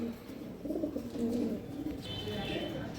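Pigeons coo at a loft holding local and Andalusian breeds, with soft, repeated low throaty calls that overlap close by over a faint background.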